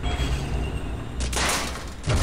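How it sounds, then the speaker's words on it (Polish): In Medal of Honor: Allied Assault, a couple of sharp, loud explosion blasts burst out over a low droning rumble, each ending abruptly, with no voices. "Wybuchło!"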